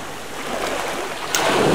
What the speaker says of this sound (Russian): слушать, как перекатывается вода по этим камушкам